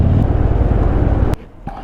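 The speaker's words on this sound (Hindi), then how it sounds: "फ्यूल है नहीं और मैं थ्रॉटल को और पुल किए जा रहा हूँ, पंप कर रहा हूँ ना व्हीकल को टू बर्न मोर फ्यूल" A 2013 Harley-Davidson Dyna running out of fuel gives a loud, low, uneven rumble as the throttle is pumped, then abruptly cuts out into near quiet with a faint sputter after.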